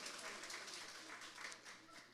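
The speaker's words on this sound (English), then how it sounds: "we can clap for her too" Faint, steady clapping from a small graduation audience at a community technology program ceremony, a soft continuous patter of many hands with no distinct single claps standing out.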